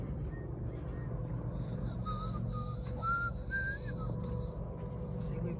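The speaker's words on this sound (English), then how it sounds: "we both whistle all the time" Someone whistles a wandering tune in short, rising notes against steady background rumble, with no speech.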